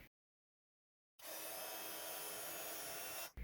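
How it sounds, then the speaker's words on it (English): A heat tool melts white embossing powder on dark grey cardstock. After a second of silence it switches on with a loud, steady hair-dryer-like blowing roar that holds to the end. "I'm going to heat emboss this with white embossing powder onto this dark grey cardstock."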